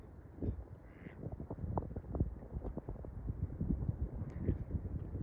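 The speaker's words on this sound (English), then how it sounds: "The birds are loving it though. Look at them." Ducks quacking on a London river foreshore at low tide, repeated short calls scattered through the clip at close to middling range over steady wind and water noise.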